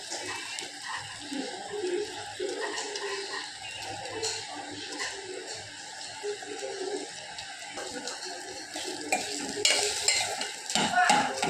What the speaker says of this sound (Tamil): நல்லா கிளத்து மிக்ஸ் பண்ணி விடணும்